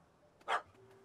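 A puppy gives a single short, sharp bark at mid distance against a quiet background with a faint low hum, with no voices.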